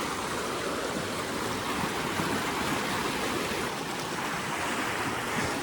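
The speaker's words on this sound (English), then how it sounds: "Here is the creek." Rock Creek along a hiking trail in Twin Falls, Idaho, rushes steadily as a constant broadband wash of flowing water, fairly loud and unbroken, with no voices over it.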